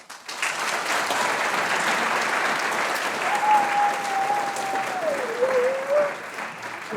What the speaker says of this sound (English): So please give our staff a round of applause.